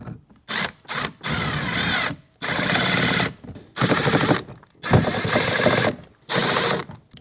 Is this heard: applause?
no